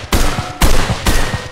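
Three loud machine-gun bursts fire from a weapon in the VR shooter GunWorld VR, each a short rapid string of shots, evenly spaced and close up with no talking.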